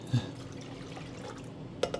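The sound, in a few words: pouring milk into a cup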